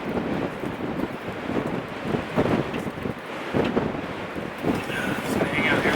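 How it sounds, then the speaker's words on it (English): Strong wind gusting across a microphone outdoors in snow, a loud continuous roar that surges and buffets throughout, heard while riding an electric dirt bike. "It's just so windy out here. I can feel the wind pushing against me, right?"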